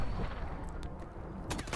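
Gunfire in the video game Call of Duty: Advanced Warfare, a continuous loud rattle of shots with a sharper burst near the end, playing alone without talk.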